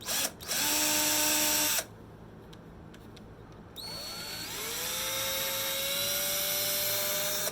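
A power drill with a brand-new bit whines loud and high, goes quiet, then spins up again, running steadily with its pitch rising as it bores into a hollowbody guitar set on an MDF table top.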